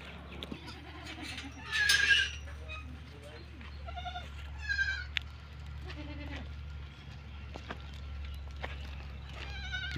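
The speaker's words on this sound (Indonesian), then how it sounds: "Nih, kandang kambing juga nih." Goats in a pen bleating at a farm in Arabia, several wavering calls at irregular intervals, some close and loud, others fainter, over a low steady hum of background noise.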